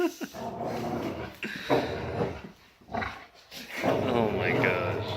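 A dog growls and snarls while tearing at a doll, the rough noise rising and falling in bursts, close and fairly loud, with people talking over it.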